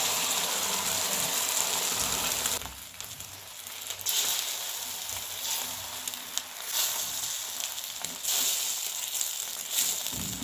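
Beaten egg batter hits an oiled hot tawa with a loud burst of sizzling, then settles into a steady crackling fry with occasional scraping clicks.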